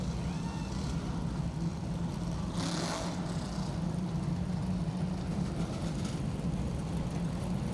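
A NASCAR Whelen Modified Tour race car pulls off pit road at Riverhead, its engine a steady loud roar that holds throughout, with a brief brighter burst partway through and no talking.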